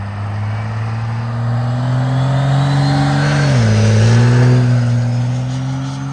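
A pre-emissions Mega Cab tow truck pulls away, its deep engine drone steady and loud, rising slightly in pitch as it accelerates, then dipping briefly with a gear change before continuing to build.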